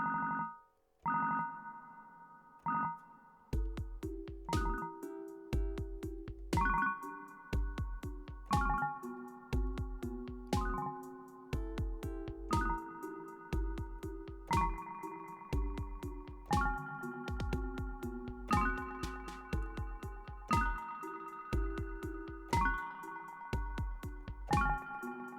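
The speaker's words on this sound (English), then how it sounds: "a little delay goes a long way, and some reverb." A synth arpeggio plays repeated rhythmic note patterns with a soft delay and reverb tail, steady and alone, with no voices present.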